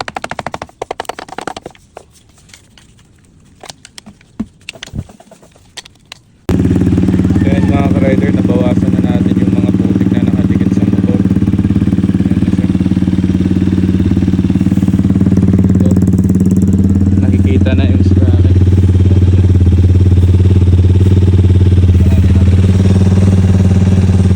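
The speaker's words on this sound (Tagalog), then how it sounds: "ngayon pinaandar lang natin yung motor para mag vibrate para matanggal yung mga" Muddy motorcycle engine started and run to shake caked mud loose: a few seconds of sharp handling noises and clanks, then a loud, close, continuous engine drone with a steady rough throb that holds for about eighteen seconds.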